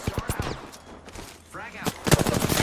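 Enemy gunfire in the World War II shooter Hell Let Loose, with sharp shots in quick bursts and a volley of rapid fire near the end, loud and close over game noise and some speech.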